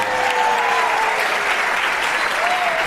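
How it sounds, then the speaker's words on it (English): A studio audience at a radio quiz show breaks into a loud, steady round of applause, dense clapping sustained for about three seconds with a faint tone running beneath it. "I think a round of applause for Bill"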